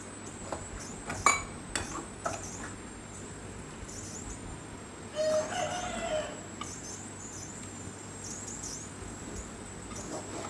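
Chickens outdoors near a home give a few scattered clucks and short calls, faint and distant over a quiet background, with occasional light clinks and no talk.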